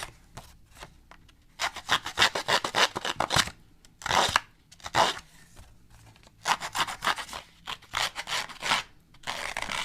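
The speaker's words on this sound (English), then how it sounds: "I'm gonna go ahead and distress up the edges of this just by using my" A distressing tool scrapes along the edges of paper card for a Christmas card, in rapid bursts of close, dry rasping strokes separated by short pauses.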